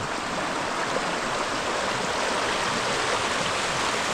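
Snowmelt water rushes through a stream in a steady, dense roar that stays close and unbroken throughout.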